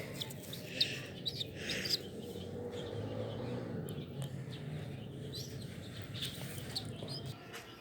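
Soft chirps and cooing from black Sia pigeons come through a hushed background, a few brighter calls standing out early on.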